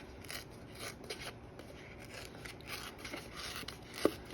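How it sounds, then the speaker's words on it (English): Paper is torn by hand in short, quiet ripping strokes, several soft tearing bursts at close range ending in one sharper tear. "I have this paper, which I'm going to tear"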